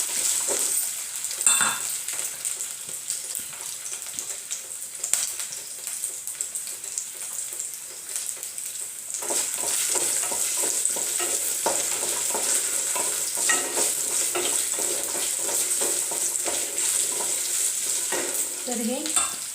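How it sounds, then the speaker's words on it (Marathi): Chopped potato drops into hot oil with fried cumin and sizzles steadily, with scraping stirs and clinks from a spoon against the pan that grow busier in the second half. "बटाटा छान असं तेलात परतून घ्यायचा."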